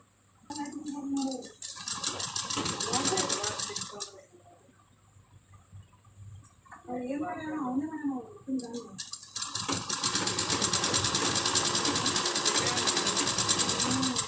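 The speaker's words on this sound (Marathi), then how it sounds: "आपण हळूहळू ह्याला दापशिलाई द्यायची" A sewing machine topstitches a lined blouse in loud, close bursts of rapid needle chatter, stopping and restarting, with someone talking during the pause between runs.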